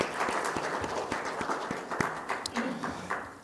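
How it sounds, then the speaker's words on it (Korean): A congregation at a Sunday church service breaks into applause to welcome people, a sustained patter of many hands clapping at moderate volume with a voice speaking over it. "박수로 환영합니다."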